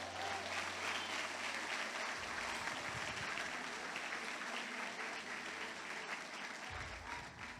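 Sustained applause from a church congregation praising the Lord, a dense, steady roar of many hands clapping that holds loud throughout with a low hum beneath and fades slightly at the end.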